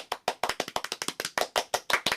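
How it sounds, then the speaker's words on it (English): Slow, deliberate golf clap of about fourteen single hand claps in a steady even rhythm, close and clear with no talk. "golf clap"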